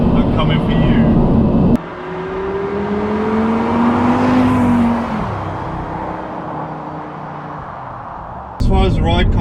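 An Audi R8 with a V10 engine accelerates hard, its rising engine note swelling close and loud before easing off, with a person talking briefly at the start and end.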